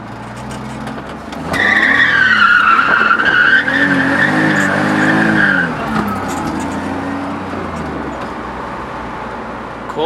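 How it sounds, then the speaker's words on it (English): Car tires squeal and skid loudly through a corner, a sustained rising and falling screech over engine roar that fades into road noise. "Cool tires, they're ripping."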